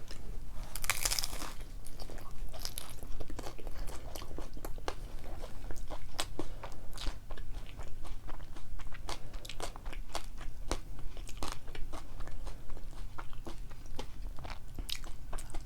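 Close, crisp crunches of chicken tacos being bitten and chewed repeat steadily throughout, with no talking.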